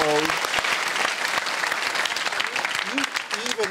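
Studio audience applause at the final of The Apprentice UK Series 7, a dense, loud wash of clapping throughout, with voices talking over it toward the end.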